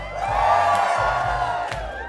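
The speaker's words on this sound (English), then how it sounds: "Somebody scream!" An audience at a spiritual talk shouting and cheering in a hall, a dense, loud, sustained wash of whoops and screams with a couple of sharp peaks.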